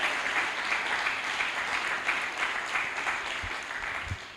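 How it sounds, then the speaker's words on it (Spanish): A church congregation gives sustained applause during a sermon, a steady wash of clapping that eases slightly toward the end. "Ahí va el aplauso para el Señor"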